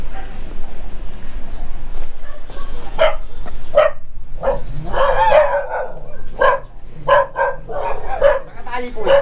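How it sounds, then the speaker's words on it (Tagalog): A tied-up dog barks in a rapid series of sharp, loud yaps on a backstreet in Fairview, Quezon City, with people talking nearby. "Yung aso."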